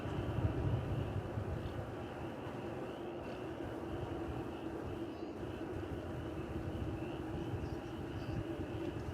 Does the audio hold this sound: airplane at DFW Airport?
yes